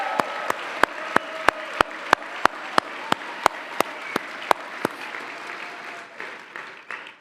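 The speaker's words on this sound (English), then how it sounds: "can I get a big round of applause for our chefs and our servers and all of our food and beverage folks?" Crowd applause for the chefs, servers and food and beverage staff at the 29th Annual Broyles Award, a dense roar of clapping punctuated by sharp, evenly spaced loud claps from one nearby person, fading out near the end.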